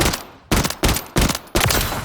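Four loud gunshot bursts from a double-barrel-style video game gun that fires two bullets per shot, each blast sharp and close with a short decay, spaced roughly a third to half a second apart, with no talking.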